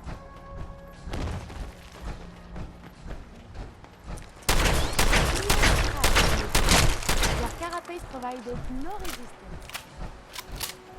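A shotgun firing in the video game Fallout 4, heavy shots and impacts that build into a loud dense burst midway, with someone talking over parts of it.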